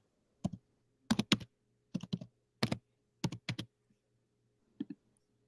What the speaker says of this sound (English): Okay, I'm typing it in.